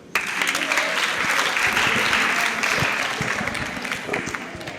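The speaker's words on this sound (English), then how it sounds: "Please clap for her." A seminar audience breaks into sustained, loud applause, many hands clapping steadily for about five seconds before tapering slightly.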